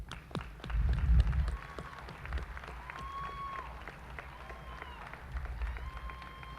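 Audience at a nursing pinning ceremony applauds graduates' families: a burst of clapping and crowd noise from a large hall, fading to scattered claps under a speaker's amplified voice.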